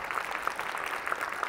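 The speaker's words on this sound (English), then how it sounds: "Let's give a round of applause to everybody tonight." Audience at a parenting panel event claps together in a steady, even patter for a short burst, with no voices standing out above it.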